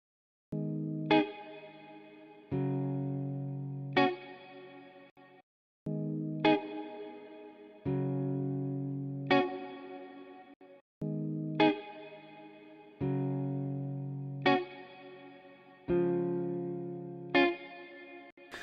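Electric guitar chords strummed in a slow repeating pattern through a spring reverb plugin, each ringing out with a springy, splashy reverb tail and a slightly resonant, metallic upper-mid shimmer.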